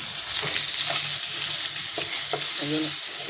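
Home-grown brinjal fries in hot oil over a raised gas flame, a loud, close, constant sizzle with several short stirring knocks and scrapes spread through it, and nobody speaking.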